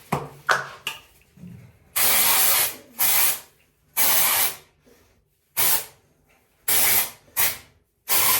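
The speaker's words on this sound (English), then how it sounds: "So dry shampoo it is." Dry shampoo aerosol sprayed onto hair in short hissing bursts, about seven or eight sharp sprays with brief pauses between, close and loud, after a few soft handling sounds.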